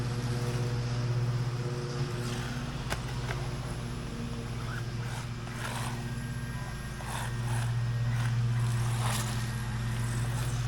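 An Arrma Mojave Grom RC car with a new steering servo drives continuously, its electric motor giving a steady droning whine that swells and eases as it runs nearby, with no talking.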